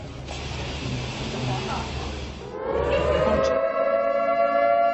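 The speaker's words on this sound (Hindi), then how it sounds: "और इस बीच सायरन बज रहा है" A civil defense air raid siren begins to wail about halfway through, rising and holding loud, after a stretch of background noise and talk, during the Russia-Ukraine war.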